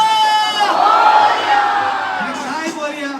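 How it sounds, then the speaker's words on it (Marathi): A festival crowd at the Lalbaug Ganesh celebration in Mumbai chants Ganpati Bappa in loud, sustained shouted voices, with a fresh surge of shouting near the end. "आता आवाज द्यायचा आहे. बोला गणपती बाप्पा."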